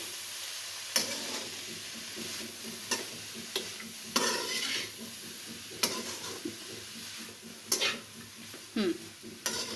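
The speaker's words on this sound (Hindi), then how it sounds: "अब हम इसको हिलाएंगे। ये देखिए इस तरह से।" A spoon stirs the vegetable filling for chicken spring rolls in a frying pan, making scraping strokes and sharp taps against the metal at irregular intervals over a soft, continuous sizzle, close by.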